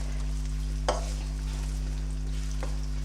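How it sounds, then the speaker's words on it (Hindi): Three medium sliced onions fry in oil over high heat, a steady close sizzle over a low hum, broken by a couple of sharper stirring clatters, with no talk. "पहले मेरी ये प्याज फ्राई हो जाए, इसे तेज़ आंच में मैं फ्राई करूँगी"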